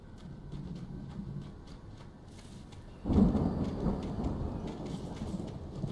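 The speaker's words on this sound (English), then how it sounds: "The storm raged on" Steady rain hisses throughout the Alan Wake storm until a deep rolling crack of thunder breaks in midway and rumbles on beneath the downpour.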